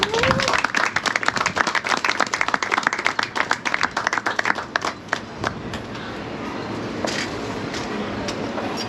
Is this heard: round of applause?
yes